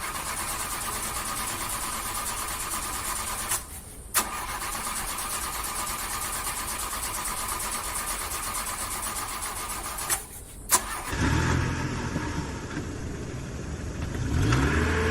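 A shot-up pickup truck's engine cranks and catches, idles with a steady hum, then revs and pulls away, two brief starter bursts marking the start before the motor drones on at moderate, fairly close range.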